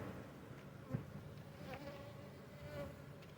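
A low, steady hum of honey bees from an opened hive during a January brood check, quiet and close, with a single soft knock and slight swells in the buzz.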